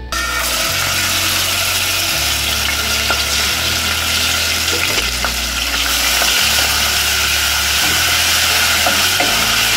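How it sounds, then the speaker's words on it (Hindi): Steady, loud sizzling of ginger-garlic paste frying in hot oil for pav bhaji, with occasional scraping and stirring sounds over a low rhythmic hum. "यहाँ मैंने पैन में दो टेबलस्पून तेल डाल दी हूँ गर्म होने के लिए इधर इसके अंदर अब मैं अदरक लहसुन डालूंगी"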